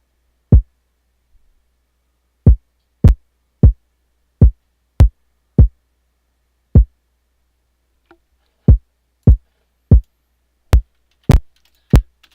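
A punchy, full, low-end kick drum from a hip-hop type beat made in FL Studio hits alone in sparse, irregular single thumps, loud and close with silence between hits.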